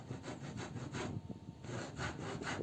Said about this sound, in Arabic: منشار الطاولة